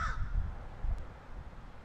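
A crow caws outdoors, a couple of harsh calls at the start over quiet low background rumble, clear but not close.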